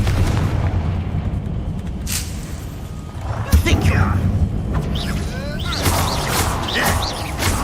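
Confringo fire spell explosions go off in Hogwarts Legacy, a sharp booming burst midway followed by rumbling and whooshing effects, with a voice speaking over the game sounds.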